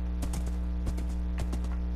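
Horse hooves clip-clop in a steady run of sharp, evenly spaced knocks as a horse is ridden in the Minecraft video game, heard alone over a constant low background hum.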